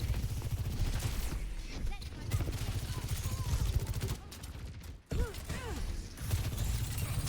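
Rapid bursts of Sojourn's gunfire in a competitive Overwatch match, dense and steady for several seconds with a brief drop in the middle, mixed with game effects and a voice talking over it.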